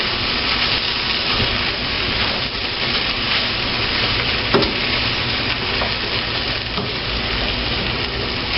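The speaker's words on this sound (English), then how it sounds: "every once in a while it's cooking, I gotta flip it over" Ham potato casserole frying in a pan, a continuous loud sizzle with scraping and stirring noises as it is turned over, and a short clink partway through.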